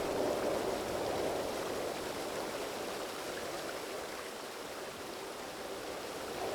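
Steady rushing of flowing stream water in a video game set in a fantasy world, a constant broadband wash that holds evenly throughout with no voices over it.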